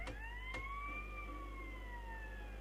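A police siren in the GTA Vice City video game wails in one long rising and falling sweep, fairly quiet, with a couple of brief clicks at the start and a low steady hum underneath.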